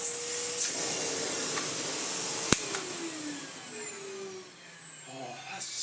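A 1990s Hitachi Powerhouse CV7100 cylinder vacuum cleaner runs with a quiet, smooth, steady whir and hiss, broken by a single sharp knock.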